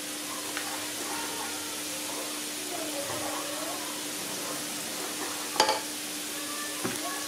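Almonds fry in oil in a pot while being stirred, producing a soft, even sizzle with faint scraping and a couple of sharper knocks against the pot late on.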